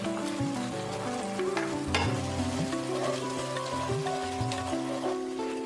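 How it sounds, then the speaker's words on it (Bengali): Onion paste sizzling and frying in spiced oil for Bengali bhuna khichuri, a dense, steady crackle heard close up, with occasional stirring scrapes and clinks. "এখন আমি এতে পেঁয়াজ বাটা দিয়ে দিচ্ছি"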